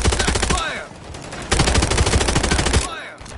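Gunfire in the game Call of Duty: Modern Warfare III. Two loud bursts of rapid automatic fire are separated by a short pause, with shell-like ringing as each burst ends.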